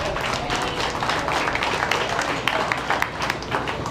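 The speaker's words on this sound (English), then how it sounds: "Let's cheer for them, Sheridan County." Audience at the Sheridan County Fair livestock show, cheering a group of continental heifers, gives dense, steady applause with scattered claps and crowd noise throughout.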